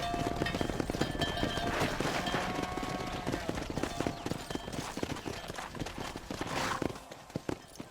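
Horse hooves clip-clopping in the Red Dead Redemption video game, a brisk rapid rhythm of loud close hoofbeats that continues throughout, with other game sounds in the background.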